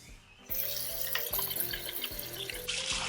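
Water suddenly gushes from a touchless kitchen faucet as hands are washed beneath it, a steady close splashing stream with brief drips and hand movements, then a sharp shift in the flow near the end.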